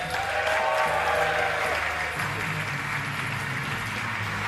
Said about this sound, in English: Big round of applause, big warm welcome for Geoff Whiting, ladies and gentlemen